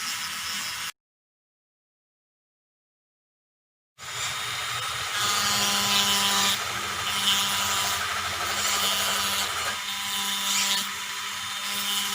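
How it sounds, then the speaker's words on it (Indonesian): An edge grinder shapes eyeglass lenses to fit wooden frames, giving a steady, close whirring grind with a faint tonal whine. A brief silence comes first, then the grinding runs continuously with no voices. "lensa kiri dan kanan sudah kita gerinda dan sudah tidak nampak garis pensil"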